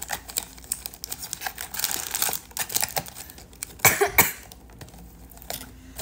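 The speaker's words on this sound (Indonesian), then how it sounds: "Aduh tuh batuk, tandanya apa batuk?" A cough bursts out near the middle of a noisy indoor livestream, with tapping and rustling sounds around it, a short rough double burst rising above the background.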